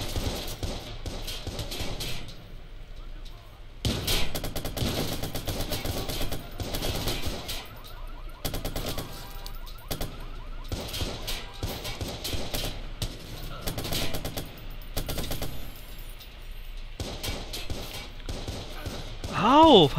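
Gunfire in Watch Dogs: bursts of rapid shots and scattered single cracks recur throughout amid game sounds and a background score, with someone talking over parts of it.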